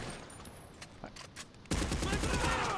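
Automatic rifle fire from an M16 in GTA V, a loud dense burst of rapid shots that erupts suddenly after a quieter stretch of scattered distant pops and runs on without a break.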